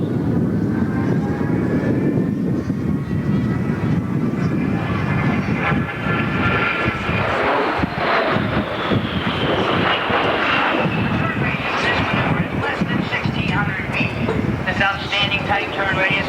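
An A-10 jet makes a level 360-degree turn at the 1991 Moody AFB airshow, a loud sustained turbofan whine sweeping in pitch as it banks, while a commentator talks over it throughout.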